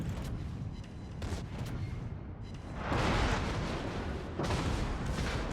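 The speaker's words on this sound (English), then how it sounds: "There's the Liberec Moss's torpedoes, and we're gonna eat a bunch" Torpedoes strike a North Carolina battleship in World of Warships, heavy rumbling booms rolling in succession, with loud surges of explosion noise over a dense battle din.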